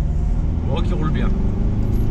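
A Fiat Ulysse car driving, with a steady low engine rumble heard from inside the cabin throughout and a brief voice speaking over it.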